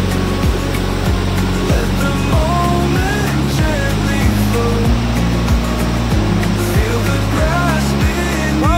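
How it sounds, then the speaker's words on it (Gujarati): Water pours through the fully opened gates of a newly built dam at Hirpura village, making a loud, continuous rushing roar that fills the whole stretch without any voices. "પાણીનો પ્રવાહ બંને કાંઠે તમે જોઈ શકો છો।"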